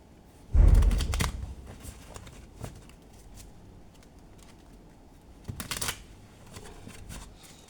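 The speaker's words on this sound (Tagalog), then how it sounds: "Balasahin ko muna." A deck of playing cards being shuffled up close, with a sharp riffling burst at the start, scattered light taps and card handling, then a second shorter riffle later on.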